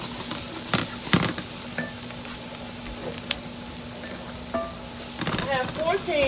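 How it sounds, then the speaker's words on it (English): Diced tomatoes going into a hot pan for a Ghanaian red red stew, a steady close sizzle with scraping stirs and clinks, a voice briefly heard near the end. "now I'm going to add the tomatoes"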